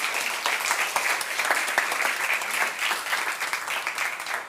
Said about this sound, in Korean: 우리 수고한 선교팀에게 우리 응원의 박수 한번 하겠습니다